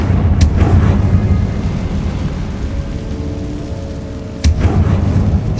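Rumbling Confringo blasting-spell explosions from the Hogwarts Legacy video game, with two sharp booming bursts several seconds apart over a loud, continuous low roar.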